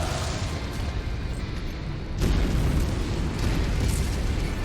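Flamers roar and burn everything in sight in the MechWarrior 5 video game, a dense, loud rushing blaze that swells into a heavier rumble halfway through, with no talk.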